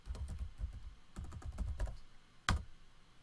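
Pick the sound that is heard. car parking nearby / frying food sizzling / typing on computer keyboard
typing on computer keyboard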